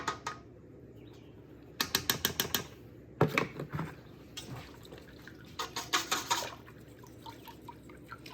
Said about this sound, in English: And then we're going to whisk that together.